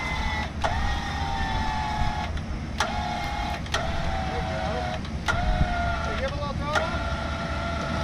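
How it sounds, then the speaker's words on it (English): A vehicle stuck in desert sand revs steadily as its wheels spin without traction, a continuous engine drone broken by sharp whining surges, with voices speaking nearby. "he's just spinning. No traction."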